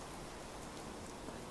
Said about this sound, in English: It's raining at the moment